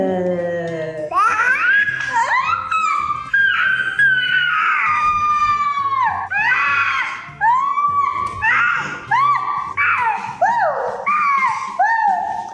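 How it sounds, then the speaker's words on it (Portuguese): Two young children shriek and squeal back and forth in a screaming contest, loud high-pitched yells in bursts over about twelve seconds, with babbling and giggles mixed in. "Uma guerra de gritos."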